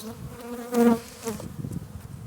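Honeybees buzzing around an opened hive during a spring inspection in March, a close steady drone with one louder swell as a bee passes near, over faint background rustle.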